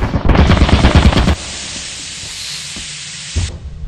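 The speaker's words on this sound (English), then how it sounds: "There's three turrets in there." Automated turret in Lethal Company firing a rapid, loud burst of gunfire for over a second, then a long steady hiss, and a brief thump near the end.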